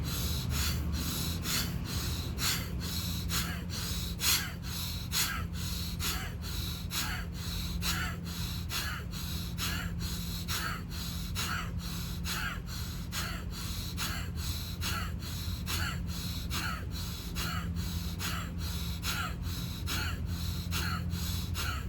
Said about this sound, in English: Now we're going to do the deep breathing, but you do it at a quicker deep breathing